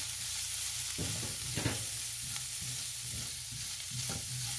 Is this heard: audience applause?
no